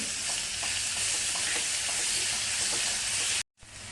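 Cumin and crushed green chili paste sizzle hard in hot oil, a loud, dense, steady frying hiss that cuts off abruptly near the end, then resumes.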